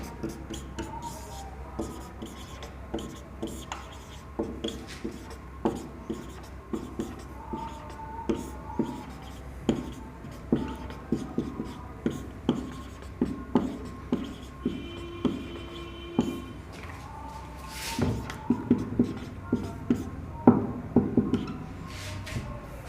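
Pen or chalk scratching out notes in a Class 6 science lesson, a steady run of short strokes and taps across the whole stretch, with a faint voice now and then in the background.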